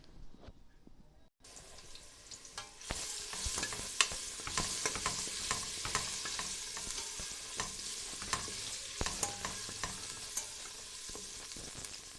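Crushed garlic, pounded in a mortar, frying in hot oil: after a moment of near silence a steady sizzle swells up and keeps going, dotted with small pops and crackles.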